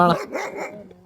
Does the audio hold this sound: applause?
no